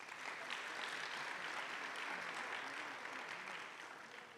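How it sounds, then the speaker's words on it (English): Sustained audience applause at a youth business awards ceremony, honouring the nominees: a dense, steady wash of many hands clapping, moderately distant and even throughout, tapering slightly at the end. "can we give them a round of applause?"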